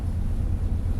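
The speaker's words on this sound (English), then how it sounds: "The wind was from due west all day, 20 to 25 knots," Steady low roar of strong westerly wind, 20 to 25 knots with higher gusts, buffeting the microphone at sea, a constant rumbling blast with no voices.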